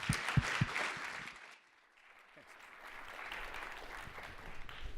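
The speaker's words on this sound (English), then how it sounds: "So if you can give a warm round of applause for John, we'll kick things off." Applause rises from an audience, fading briefly before steady clapping returns and continues, fairly distant with a room echo.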